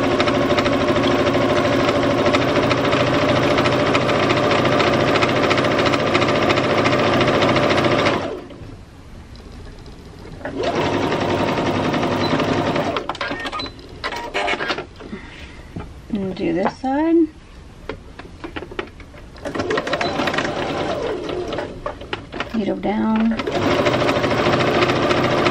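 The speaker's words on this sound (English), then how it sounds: "My machine stops with the needle down." A sewing machine runs in long steady bursts of rapid mechanical stitching, pausing briefly mid-way while a voice speaks, then resuming at full speed close to the listener.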